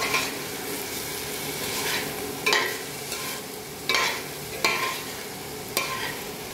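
Coriander being stirred into a frying pan of sizzling food, with a steady fry hiss under several sharp clanks and scrapes of a utensil against the pan, close by and without talk.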